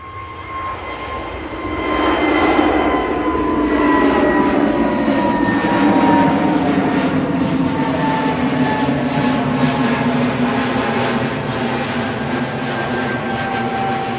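A plane at Manchester Airport roars past with a loud, sustained high-pitched engine whine, slowly gliding in pitch over a heavy broadband rumble, with no voices.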